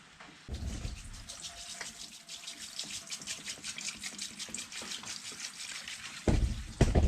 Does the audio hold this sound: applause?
no